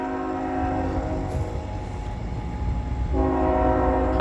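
A Norfolk Southern freight train, 38G, passes through Tarentum, Pennsylvania, sounding a steady multi-tone horn that breaks off briefly and resumes over a constant rumble of rolling wagons.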